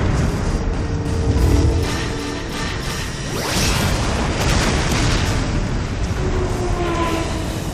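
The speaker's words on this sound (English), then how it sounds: "Oh, two motherships firing at each other." Two motherships exchanging fire in Stargate SG-1, a dense continuous roar of booming blasts and whooshing energy bolts, loud and sustained throughout with no talk.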